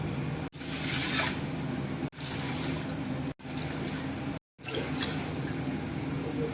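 Water poured into a pot for sugar syrup, one cup of sugar to six cups of water, for rasmalai: a steady close splashing stream in several bursts separated by brief pauses.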